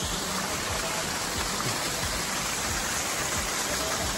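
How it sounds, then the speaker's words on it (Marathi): Steady light monsoon rain hisses evenly throughout at Tamhini Ghat, a dense continuous wash of falling water with no voices or breaks. "हे बघा वेदर थोडा थोडा हलका हलका पाऊस येतोय."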